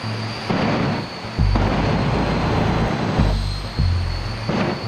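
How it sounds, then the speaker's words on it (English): A jet turbine-powered Mazda RX-7 makes a demo run before a crowd, its turbine giving a loud, steady whine and roar that swells in repeated surges, with no talk. "the crowd was treated to a demo from a jet turbine-powered RX-7."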